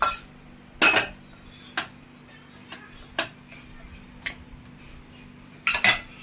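A steel plate and bowl clink against each other while the plate is greased with ghee for sukhdi, giving a handful of sharp, bright metallic taps spaced irregularly over a quiet kitchen background.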